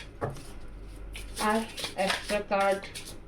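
Tarot cards are shuffled by hand at close range, a soft papery riffling that runs through the clip while a voice talks over the latter half.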